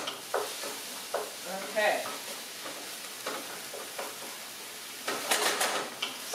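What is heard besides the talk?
ground turkey browning in a pot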